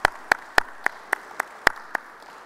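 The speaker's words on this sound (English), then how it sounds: "Ananth, let's just give him a round of applause." Eight or so sharp, separate claps spaced unevenly across a couple of seconds, like a small, sparse group applauding at moderate distance, at a CXO round table on software engineering.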